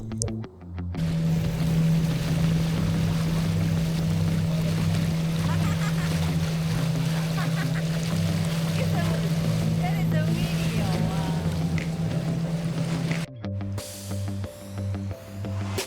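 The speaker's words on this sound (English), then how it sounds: "After you swim, you head back on the boat." A tour boat's motor drones steadily on a river in Mulu National Park, a loud constant hum with water wash, cutting out near the end to quieter splashing and ambient sound.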